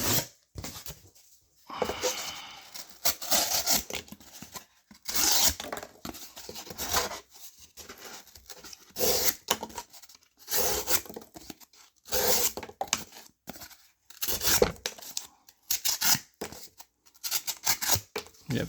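A Bridgeport Knife Co. liner-lock knife slices through cardboard in repeated scraping, tearing strokes, close and fairly loud, with brief pauses between cuts.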